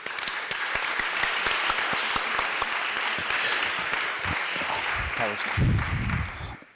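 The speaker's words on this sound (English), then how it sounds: "Please join me in giving them a round of applause." Dense, sustained audience applause fills a session hall at a steady level, then tapers off near the end as a voice begins to speak.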